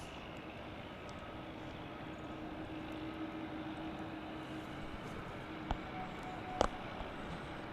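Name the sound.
United Airlines plane, flight 2371 to San Francisco, at DFW airport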